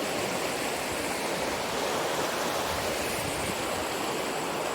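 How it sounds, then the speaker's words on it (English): A river rushes through Johnston Canyon in a steady, broadband roar of flowing water that is loud and continuous and unbroken by voices. "This is a beautiful, beautiful river here."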